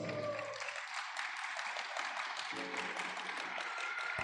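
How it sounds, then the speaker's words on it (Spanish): Applause in a church congregation, with a continuous, dense patter of many hands clapping at a fairly quiet, distant level, steady throughout. "denle un fuerte aplauso a Dios"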